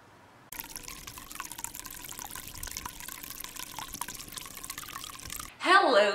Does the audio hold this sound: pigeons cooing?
no